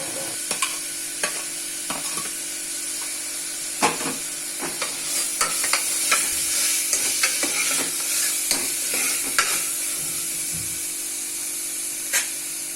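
Ginger-garlic paste and chopped onions fry in hot oil for a Tamil mutton curry, giving a steady sizzling hiss with many sharp spatula scrapes and stirring knocks spread through, close and alone with no talk.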